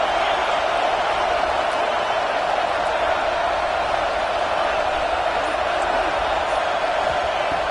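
A loud, fired-up football crowd roaring continuously in a stadium, a dense and unbroken wall of noise that holds steady throughout with no breaks.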